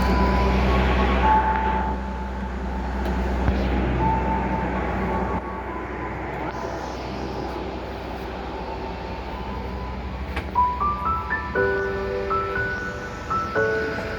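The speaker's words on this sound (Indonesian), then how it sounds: "Sisa 1 menit lagi kereta api Pangrango tujuan Bogor Paledang segera diberangkatkan." Pangrango passenger train at a station, bound for Bogor Paledang from Sukabumi: a low rumbling engine and hiss of machinery, followed by a series of rising electronic tones near the end, with no voices.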